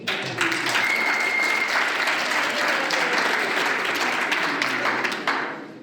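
Loud, sustained applause from a crowd greets Councillor Macingwane at the launch of a community market day, a dense unbroken clapping that holds steady for several seconds.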